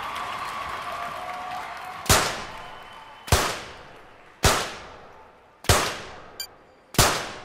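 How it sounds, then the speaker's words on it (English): Five loud, sharp pistol cracks in a 25-metre rapid-fire pistol event in an Olympic shooting game, spaced about a second apart, each with a quick decaying echo, plus one fainter click near the end. "Here we go then with round 1 of the 25-metre rapid-fire pistol."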